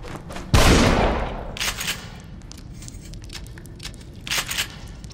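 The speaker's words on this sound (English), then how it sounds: "I'm gonna have to use the shotgun." A shotgun blast in The Evil Within horror video game goes off loudly once, with a few fainter bursts and impacts trailing after it in the game's murky ambience.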